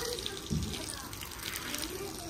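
Water pours steadily to fill a container, a faint continuous splashing rush with a soft voice briefly heard underneath.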